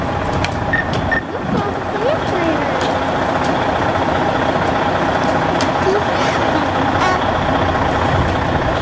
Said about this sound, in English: That's the fire truck.